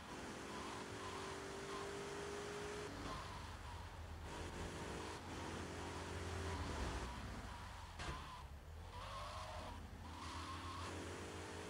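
Car engine driving in Grand Theft Auto 3, droning steadily close-up with shifting pitch as it accelerates, punctuated by repeated tire squeals and skids.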